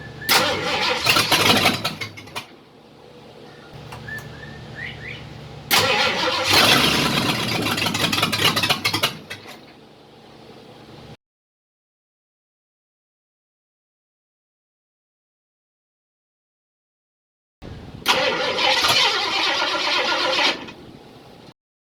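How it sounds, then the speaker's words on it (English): A 1953 Ford F100 pickup truck engine, with a low battery, cranks and catches, running rough for several seconds, stops, then cranks again later; loud and close with no talking. "I'm gonna get it idling and check for some leaks."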